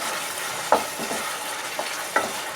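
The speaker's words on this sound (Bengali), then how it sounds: "এটা যতক্ষণ না তেল ছাড়বে ততক্ষণ পর্যন্ত এটা আমাদের একদম ক্রমাগত নেড়ে যেতে হবে।" Boiled tomatoes stirred in a pan with a ladle until the oil separates, a few soft scraping strokes over a low steady background, no talking.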